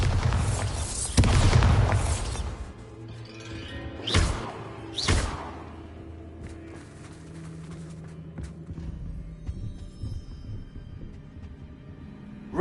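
Bombarda explosion spells go off in Hogwarts Legacy: a big booming blast opens, followed by two sharp bursts a second apart, then quieter rumbling debris and scattered small impacts.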